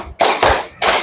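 Hand claps in a classroom counting exercise come as three sharp, close claps in a quick, even rhythm.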